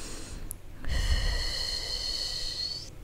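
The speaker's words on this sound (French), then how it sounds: "Respiration complète ici." A full, deep yoga breath drawn in slowly, close and fairly loud, with a sustained airy hiss following a short sharp intake; no talking.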